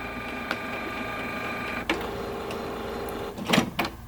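A Canon MX450 inkjet printer runs with a steady mechanical whir and hum, broken by clicks and a few louder clunks and rattles near the end, heard up close with no talking.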